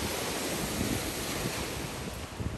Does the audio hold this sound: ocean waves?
yes